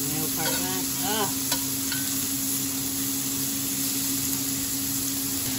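Steak bites searing in a hot pan give a loud, continuous sizzle and crackle that stays close and even throughout, with no talking.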